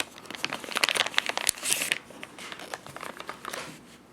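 Crinkly plastic bag packaging from a Spyderco Sage 2 folding knife being handled close up, with a rapid burst of sharp crackles and rustles, a louder tearing rush midway, then softer intermittent crinkling.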